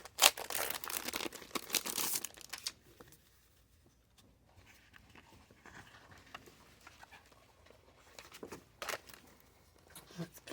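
Crinkly Christmas wrapping paper from a Temu haul is rustled and crumpled in loud bursts at the start and again near the end, with quieter shuffling handling in between and no talking.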